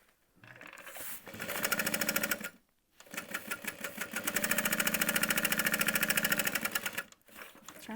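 A home sewing machine bastes a fabric backpack in two bursts of rapid, even needle stitching, separated by short pauses, running close and clear with no talking.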